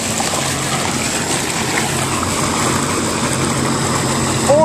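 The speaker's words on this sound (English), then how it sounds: "Seadoo Challenger, 430 horsepower, twin engines." A 2007 Sea-Doo Challenger boat with twin 430 horsepower Rotax engines running steadily, a loud, even, continuous engine drone with water wash and no talking.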